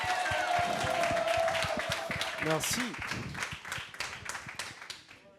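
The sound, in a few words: audience applause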